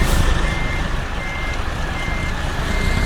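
A heavy truck in American Truck Simulator backs up, with a steady run of reversing beeps over a loud, constant engine and road rumble and no talk.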